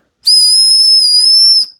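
A single loud, piercing blast from the whistle on a Mossy Oak 27-in-1 multi tool fire starter holds a steady shrill tone for about a second and a half, then stops cleanly.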